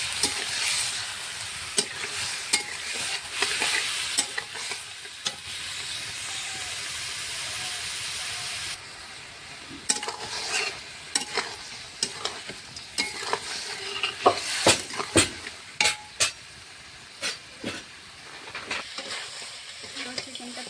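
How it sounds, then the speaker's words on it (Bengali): Salted chicken pieces frying in hot oil in a pan, a dense sizzling hiss with frequent sharp scraping and clicking stir strokes that grow more prominent as the frying continues. "চিকেনটা তেলে ভেজে দিয়েছি"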